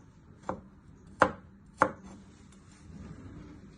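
A knife chops food into little pieces on a board, three sharp distinct knocks spaced about half a second apart, close and clean with light rustle between.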